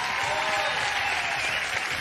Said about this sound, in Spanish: aplauso para el de Vigo